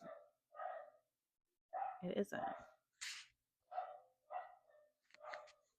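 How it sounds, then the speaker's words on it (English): Several dogs bark in bursts, fairly close and loud, with short yips between barks and a brief spoken phrase amid them. "My dogs are going off."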